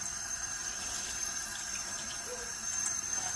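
Cold tap water runs steadily as a cast iron pan is rinsed, a soft continuous splash and hiss at low level with no voices.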